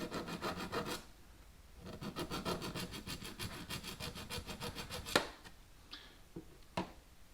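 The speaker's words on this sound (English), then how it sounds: "I don't want to stand out here all day filing on this." A hand file rasps back and forth on a car antenna outdoors. The strokes come in a quick, even, gritty rhythm that is close and steady, then pause, followed by a few scattered metallic taps and scrapes.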